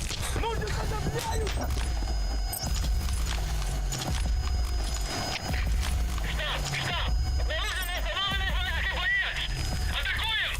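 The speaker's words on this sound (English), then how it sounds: "Yo, don't hit the horse." Horse hooves clip-clop steadily in the Metal Gear video game, with whinnies and neighs, game sound effects and a voice talking over the rhythmic trotting.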